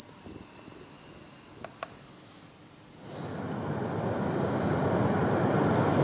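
A Sound Oasis BST-400 Bluetooth speaker plays summer night crickets: steady high-pitched chirring at first, then a brief lull before a soft wash of surf-like noise takes over.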